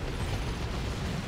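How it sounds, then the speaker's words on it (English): Synapse explosions in the strategy game Dawn of War 2: Retribution, fought against Tyranids, come as a dense, continuous rumbling battle din of overlapping blasts and crunching mechanical noise, loud and steady, with no talking. "I heard a bunch of synapse explosions there, and synapse backlashes will damage big stuff like Carnifexes"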